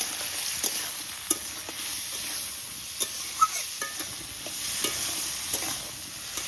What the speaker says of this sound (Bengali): আজকে চিংড়ি মাছের মধ্যে একটু লবণ আর একটু হলুদ দিয়ে ভালো করে ভেজে নেবো